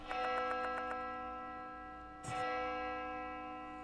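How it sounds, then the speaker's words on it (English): A clock tower bell in Spirit Hunter: Death Mark II sounds with a quick run of bright repeated metallic strikes, then a single louder toll whose ringing tone sustains and slowly decays, close and clear with no talking. "The clock tower sounds again, but why?"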